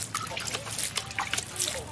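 Probiotic liquid is poured and splashed onto animal feed for fermentation, a close, uneven trickling and sloshing with a voice speaking over it.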